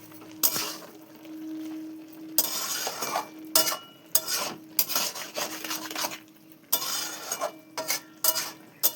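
A spoon stirs sugar into a vegetarian spinach curry in a pan, giving intermittent scraping and rasping bursts against the metal with brief pauses and a faint steady hum underneath.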